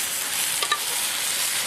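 Ground coconut, chili, turmeric and ginger paste sizzling over curry leaves in hot oil, cooked outdoors on a hot beach in Kerala; a steady, close frying hiss with a couple of brief stirring scrapes.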